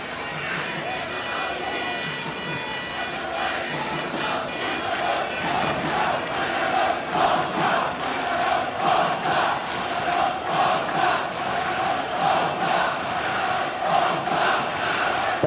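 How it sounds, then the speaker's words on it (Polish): A large football stadium crowd at a Poland versus Hungary European Championship qualifier in 1988, roaring and cheering steadily throughout, with a dense wash of applause and shouting from the stands. "Brawa za tę akcję naszego zespołu."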